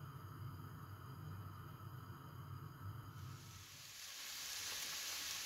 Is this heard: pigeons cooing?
no